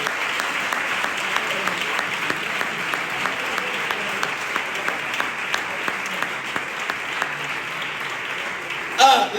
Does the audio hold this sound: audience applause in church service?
yes